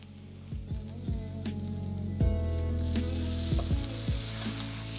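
Marinated chicken sizzles with onions in a pan, a lively crackling fry punctuated by several sharp metallic clanks of a spoon against the pan and a steady low hum beneath.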